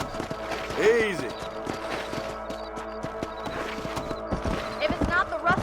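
Horse hooves clop along in Red Dead Redemption, a steady rhythmic beat on the ground with a whinny near the start, heard under characters talking.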